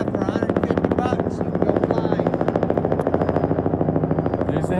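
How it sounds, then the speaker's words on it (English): Rapid, steady chopping thumps of a helicopter close overhead at the Royal Gorge, loud and rhythmic throughout, with a voice talking now and then underneath. "Oh, wait, and there's a helicopter."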